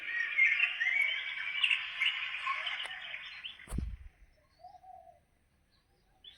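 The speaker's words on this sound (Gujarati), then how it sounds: "સવારમાં જો પક્ષી કેવા અવાજ કરે છે." Morning birds chirp in a dense, continuous chorus for a few seconds, then a dull thump cuts in and a single faint call follows before near silence.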